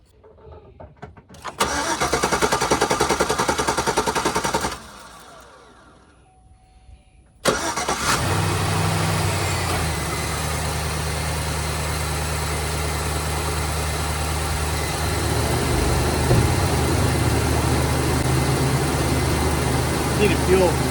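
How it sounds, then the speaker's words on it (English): A 2010 Chevy Silverado 5.3L V8 cranks loudly for a few seconds, pauses, then cranks again and fires, settling into a steady close idle after fuel injector replacement; someone speaks briefly over the running engine. "We're gonna crank it up and see what happens."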